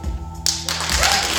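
Audience at a Cégep en Spectacle 2019 comedy show bursting into applause after a brief tap, the clapping swelling into a dense, steady patter from a crowd.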